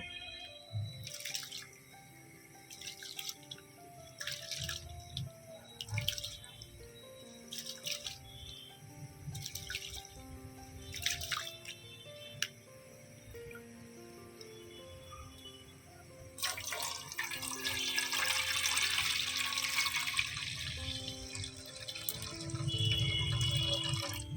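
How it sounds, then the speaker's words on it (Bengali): Soaked rice is rinsed in water: sparse, close drips and splashes at first, then a sustained stretch of running, sloshing water, with a faint tonal background throughout. "এবারে আমি ভিজিয়ে রাখা চালটা ধুয়ে নেব"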